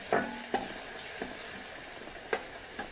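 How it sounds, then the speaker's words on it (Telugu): Onions cooking in a pan to light brown with the lid off, a soft steady sizzle broken by a few sharp stirring clacks of a utensil, close and fairly quiet with no voices. "10 నిమిషాల తర్వాత ముక్కలు ఇలా మగ్గాయండి. లైట్ బ్రౌన్ కలర్ వచ్చాయి."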